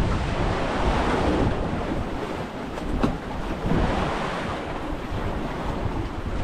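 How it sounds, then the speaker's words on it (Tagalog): Rough open sea heard from aboard a boat: continuous loud wave wash and surf roar with heavy wind buffeting the microphone, steady throughout with no voices. "Medyo maalon."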